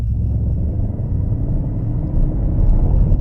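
Low, steady rumble of a Mercedes-AMG GT 63 V8 engine heard from inside the car, a continuous deep drone with a slight swell in the last second, no talk.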